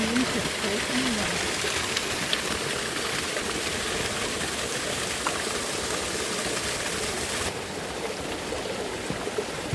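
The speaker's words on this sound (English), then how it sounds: "And just past the wallaby, over the rocks, we found our next marvel. A beautiful little waterfall." A small waterfall pours over rocks in a creek, giving a steady, close rushing wash that runs throughout, with a slight drop in level near the end.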